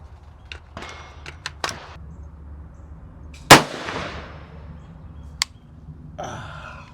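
A single unsuppressed 5.56 rifle shot fired through a muzzle device, a sharp, loud crack with a reverberant tail. A few quieter clanks come before it and one after, against steady background noise.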